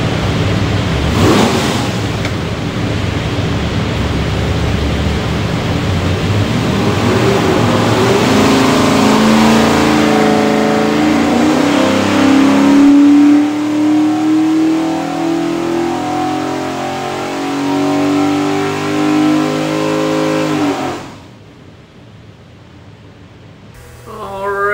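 A Ford 347 V8 with Borla stack injection and Terminator X fuel management revs hard on an engine dyno, a loud sustained roar climbing steadily in pitch for about twenty seconds before cutting off abruptly to a low idle.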